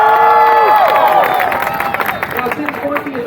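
A stunt show crowd at the State Fair of Texas cheers and shouts for the red team's jumping dog, a loud, steady mass of voices with whistles and rising yells throughout.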